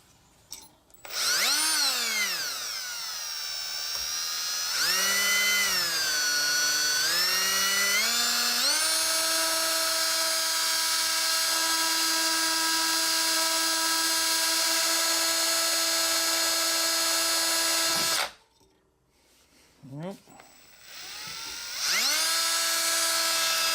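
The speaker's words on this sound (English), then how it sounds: "we're going to drill a small hole off to the side here." A power drill whines loudly as it drills a small hole in a 1971 Chrysler New Yorker cooling system part, its pitch dipping and rising as it bites into material, then holding steady before stopping briefly and starting again.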